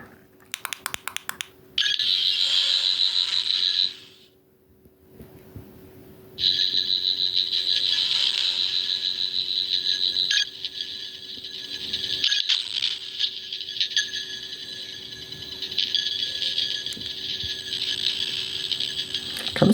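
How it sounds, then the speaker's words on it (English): A 14th Doctor sonic screwdriver toy plays a long electronic effect: a brief clicking start, a shrill high whine, a short gap, then a sustained warbling buzz that wavers as if straining, loud and close with no talk. "if you press it 5 times, it will create a quite long sound effect"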